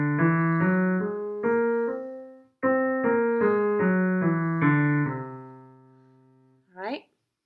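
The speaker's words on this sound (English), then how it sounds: "we have a scale that's composed entirely of whole steps. So it's going to sound like this." A whole-tone scale built entirely of whole steps, with clear sustained notes climbing and then descending in two phrases, close and steady, ending with a short vocal sound.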